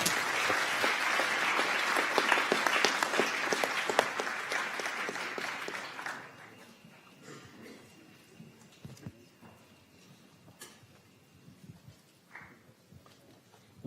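An audience at the UN Youth Climate Summit gives the Summer of Solutions finalists a round of applause. The dense clapping runs strong for about six seconds, then thins and fades to scattered claps and quiet room noise.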